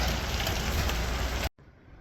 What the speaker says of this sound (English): Oh yeah, it's hailing.